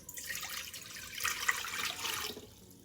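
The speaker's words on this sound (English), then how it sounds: "We're going to add in 2 cups of water." Two cups of water poured into a saucepan over high heat, a short splashing rush that swells and then tapers off, close and fairly quiet, with no talking.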